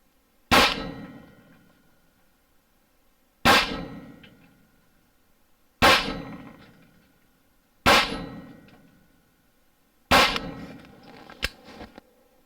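An AR9 9mm pistol-caliber carbine fires Lehigh Defense 90 grain Extreme Defense supersonic rounds outdoors, five sharp loud reports spaced a few seconds apart, each with a short ringing decay, the last followed by a couple of faint clicks.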